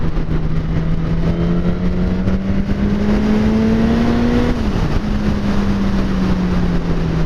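A Suzuki GSX-S1000 motorcycle on a test ride, its engine droning steadily and rising gradually in pitch, then dipping briefly and settling, under loud constant wind rush.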